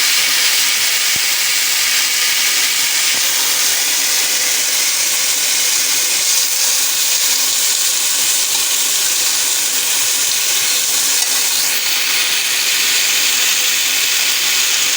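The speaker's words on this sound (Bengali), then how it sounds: "এই যে আমার কড়াইটা গরম হয়ে গেছে, যে আমি এখন দিয়ে দিলাম আনারসটা।" Pineapple pieces for a chutney-style jelly hit a hot, oil-free wok and give a loud, continuous steaming hiss that holds steady throughout, close and without a break.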